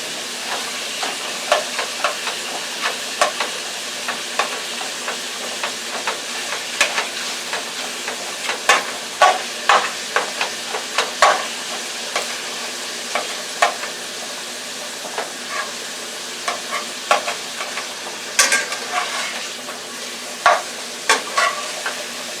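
Ground beef, 81% lean, fries in olive oil while being stirred, with a continuous hiss of sizzling under repeated sharp scrapes and taps of the utensil against the pan, close up and without speech.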